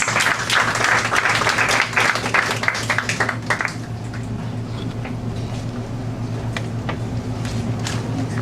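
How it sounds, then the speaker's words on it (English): A press conference audience at an evening dinner event applauds for a chairman, a dense wash of clapping that starts full and loud, then thins to a quieter, scattered patter over a constant low hum. "Let's give the TSNE chairman, Mr. George Taylor, a big round of applause"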